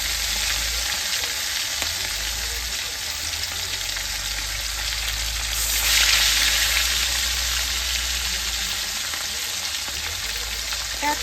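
A loud, continuous sizzle of fish roe fritters frying in hot oil fills the space up close, rising briefly into a sharper hiss partway through before settling back, with no voices.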